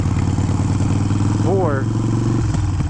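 Harley-Davidson Sportster 883 fitted with a Hammer 1275 big-bore kit, engine loud and close with a steady idle-like thrum, then a quick rising throttle blip around the middle before settling back, with a voice talking over it.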